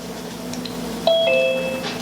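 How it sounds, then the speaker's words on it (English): A two-tone doorbell chime rings once, clear and fairly close, over a quiet background hum on a phone call. "Is that a doorbell?"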